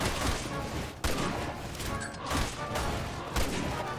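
Gunfire from shooting enemies in the Resident Evil 6 video game, dense bursts of loud shots repeating across the span with sharp peaks, thick and close in the game mix.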